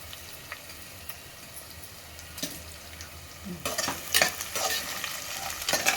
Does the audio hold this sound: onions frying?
yes